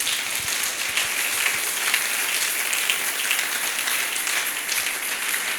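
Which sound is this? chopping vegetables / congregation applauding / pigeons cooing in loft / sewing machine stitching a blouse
congregation applauding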